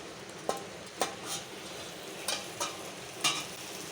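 Vegetables with grated coconut sautéing in a pan, a soft steady sizzle under a few sharp spoon scrapes and taps spaced about half a second to a second apart, close and fairly quiet.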